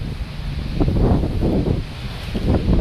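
Gusty outdoor wind buffeting the microphone in a garden where annual plants are being covered with cloth against frost, a loud low rumble that swells and eases throughout, with no talk.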